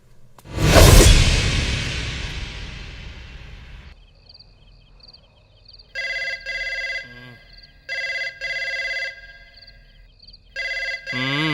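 A telephone ringing in bursts of a bright electronic ringtone, each burst about a second long and separated by short gaps, following a loud sweeping whoosh at the start.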